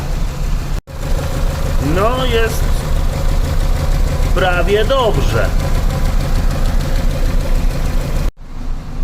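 A Renault Megane 1.6 engine idles roughly and unevenly, misfiring on the first and third cylinders, with an irregular shaking rhythm, while a person speaks briefly over it.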